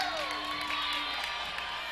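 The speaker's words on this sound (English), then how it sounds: "And the crowd liked that one." A crowd at a 2006 Dothan vs Rehobeth boys high school basketball game roars and cheers after a blocked shot, a steady wash of shouting and whoops heard from within the gym.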